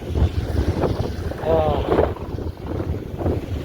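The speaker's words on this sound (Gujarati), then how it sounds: "જુઓ પવન જુઓ તમે એકવાર કેટલો ફાસ્ટ પવન છે" Strong, fast wind at sunset roars into the microphone as a continuous low, gusty buffeting that stays loud throughout, with a brief voice-like sound partway through.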